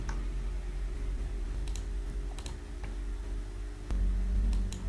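AutoCAD commands typed on a computer keyboard, a handful of sparse, light key clicks scattered over a constant low electrical hum that grows slightly louder near the end.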